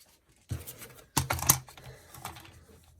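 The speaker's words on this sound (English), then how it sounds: "I cannot cut straight with scissors" Scissors snip through paper during a journaling craft project, a few crisp close cuts in short bursts separated by quiet pauses.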